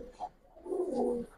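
A Giribaz pigeon, one of a mated pair, gives a short close coo that swells in its second half, alone and fairly soft.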